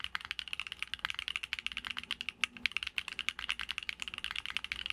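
Fast typing on a mechanical keyboard fitted with Pearl linear switches, a dense run of crisp, medium-high clicks and clacks close to the listener, steady and without talk.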